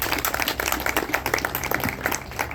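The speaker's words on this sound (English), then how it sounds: "Everybody give him a round of applause." An audience at a small political meet-and-greet gives a candidate a round of applause. Dense, busy clapping rises and falls over a low room hum.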